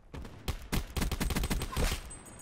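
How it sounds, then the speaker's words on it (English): Rapid bursts of automatic gunfire from Call of Duty: Black Ops 4, a dense string of sharp shots forming a steady rattling rhythm, with no talk over them. "Oh, somebody's shooting at you already."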